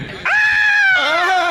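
A person screams loudly in two sustained, wavering shrieks, the second dropping lower, inside a supposedly haunted old house.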